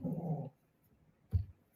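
A dog growls low and close for about half a second, then gives a single short grumble a moment later, with quiet between and no talking.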